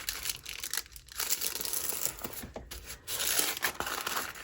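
Sheets of thin, crinkly vintage onion skin paper from an old manuscript are folded by hand, giving a continuous close, rustling crackle with sharper crinkles and short pauses.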